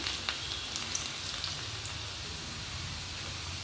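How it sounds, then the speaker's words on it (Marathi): Finely chopped garlic and ginger frying in oil in a pan over high heat, a steady close sizzle with scattered small pops and crackles, no talking. "छान लाल होईपर्यंत हे तळून घ्या।"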